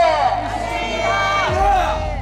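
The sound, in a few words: crowd cheering at a rally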